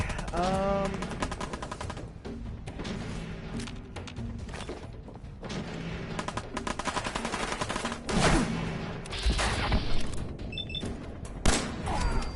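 Fallout 4 gunfire, with dense volleys of rapid shots and thuds running through a long stretch of game sound, the heaviest bursts toward the end.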